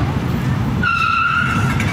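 A car skids during a street collision, a sharp tire squeal rising out of road noise midway and sustaining for about a second, with a voice talking.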